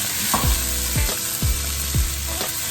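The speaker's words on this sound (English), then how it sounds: "I'm going to stir that around." Fresh green beans stirred in a sizzling pan, with a steady frying hiss and four regular scraping strokes of the spoon, close and clear with no talking.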